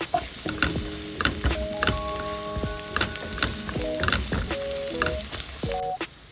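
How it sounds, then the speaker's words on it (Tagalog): Garlic and onion fry in a pan with a steady close sizzle, broken by clinks and scrapes from stirring, and no talking. "Lagyan natin ng bawang. Sibuyas."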